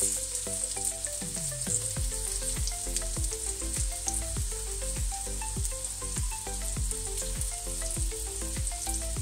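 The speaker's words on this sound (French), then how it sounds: "faites cuire sur toutes les tranches, tous les côtés" Meatballs fry steadily in a pan, a close, continuous sizzle with scattered crackles and small pops running the whole time while no one speaks.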